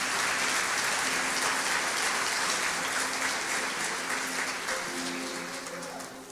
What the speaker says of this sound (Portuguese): Você pode dar um aplauso para agradecer?